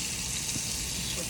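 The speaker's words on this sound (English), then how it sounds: "Potatoes are done, so we're going to drain." Water from boiled potatoes pours out and drains in a steady, continuous gushing rush, close and fairly loud, with no break.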